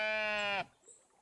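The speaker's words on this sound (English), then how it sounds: "let's say actually hi to the sheep" A sheep in the cozy building game Tiny Glade lets out one clear, loud bleat lasting about half a second, then cuts off to quiet background.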